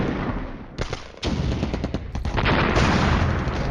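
Artillery fire in the Cold War strategy video game Flashpoint Campaigns: Cold War, a dense run of loud booming blasts and rapid gunfire bursts, close and continuous, with no talking.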